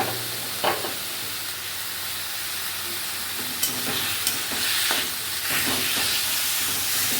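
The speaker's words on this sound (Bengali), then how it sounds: "ভাজা চিংড়ি মাছগুলো দিয়ে দিলাম।" Fried prawns go into a spiced taro stalk curry in a village kitchen pan, giving a steady sizzle and hiss with a few sharp stirring knocks and scrapes, close and moderately loud.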